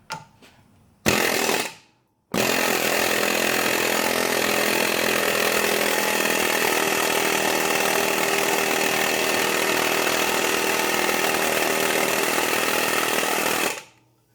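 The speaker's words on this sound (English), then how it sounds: "Now, the Matco air hammer." A Matco air hammer works on a ball joint in a continuous loud, harsh pneumatic rattle. A brief first burst stops, then the hammer runs nonstop for about twelve seconds before cutting out.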